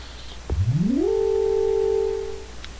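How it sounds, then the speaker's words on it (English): A Chrono Trigger-style sound effect plays in Pokemon Conquest at the Infinite Tower: a clear electronic tone sweeps upward in pitch, then holds a bright steady note for about a second before fading, with no voices. "Chrono Trigger sound effect right there."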